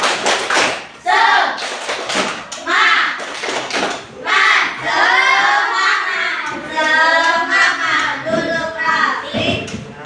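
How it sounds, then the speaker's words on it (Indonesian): Children clap a rhythmic spirit-clap pattern in a classroom, sharp hand claps mixed with loud chanting voices in unison throughout. "sebelum kita akhiri, kita semangat dulu. Nah, tepuk semangat."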